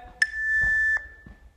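A single sustained electronic beep from a home workout interval timer, sharp onset then a steady tone lasting under a second, close and clear with faint breathing around it.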